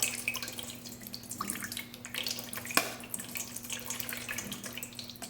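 Whey drains from fresh cheese curds in a steady, faint trickle and patter of liquid, like a slow tap running into a basin, with soft drips and no talk.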